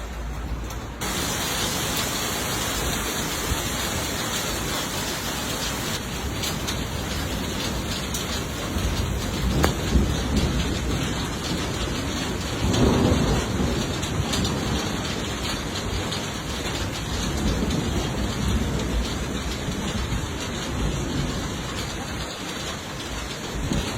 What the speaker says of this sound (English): there is a huge thunderstorm going on outside right now